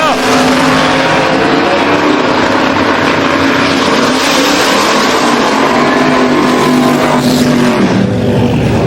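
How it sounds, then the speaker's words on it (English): Drag racing launch at a Sick Week event as a Honda S2000 and an LS-swapped Nova leave the line together, a loud, sustained engine roar that holds and rises over nearly nine seconds, mixed with a voice talking. "He's over on left-hand side. Brian Axon, the LS Infused Nova, right-hand side. And off we go."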